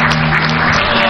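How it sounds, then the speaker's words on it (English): A large crowd at a church leaders' meeting with John Mahama in Tema, Ghana claps and applauds loudly and continuously, a dense steady wash of hands with a low steady hum underneath. "A round of applause again"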